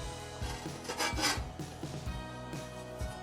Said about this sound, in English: Press that with a spatula just a little bit.